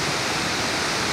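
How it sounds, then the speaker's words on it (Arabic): Shaki waterfall in Armenia produces a dense, continuous roar of rushing water, loud and steady across the whole stretch, with no voices. "ومن أمام شلالات شاكر"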